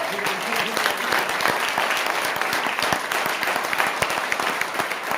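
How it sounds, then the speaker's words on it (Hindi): An audience at a direct-selling seminar claps steadily, a dense run of many hands with sharp individual claps standing out, while a faint voice can be heard beneath it. "ताली ढंग से बजाओ यार।"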